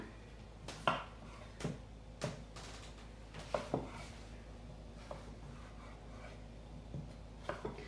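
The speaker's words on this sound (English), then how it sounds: "So I just start by chopping these things up." Sharp knife strikes on a cutting board, irregular chops spaced about a second apart, close and fairly quiet.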